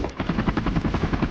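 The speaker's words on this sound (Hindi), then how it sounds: "वो देखो, हेलीकॉप्टर।" A helicopter is heard nearby and fairly loud, its rotor giving a rapid, steady thudding chop with no voices over it.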